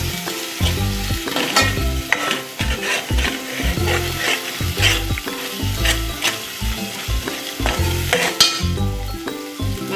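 Soybean masala gravy frying in oil with spices, loud close sizzling broken by repeated rhythmic stirring scrapes of a spoon against the pan, with no voices.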